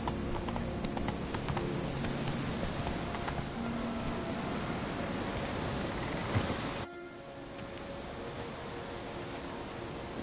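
Roach the horse galloping in Witcher 3, rapid hoofbeats under a dense, hissy wash of rain-like ambience that drops away abruptly partway through.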